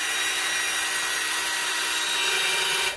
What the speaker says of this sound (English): What we're doing here, we're drilling a hole for the airline.